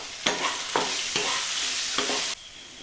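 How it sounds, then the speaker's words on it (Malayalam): Chopped onion with a pinch of salt sizzling in a pan for a bachelor's curry, with a steady frying hiss broken by several scraping stirs before it cuts off abruptly near the end. "അത് കഴിഞ്ഞ് അതിലേക്ക് ഈ സവാള അരിഞ്ഞതിടുക."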